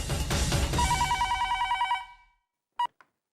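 A telephone bell rings in rapid trilling bursts, then stops; a short electronic beep follows after a pause.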